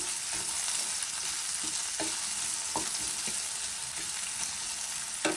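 Onion with green chilies fries in a pan, a constant close sizzle punctuated by periodic sharp scrapes of a spatula stirring.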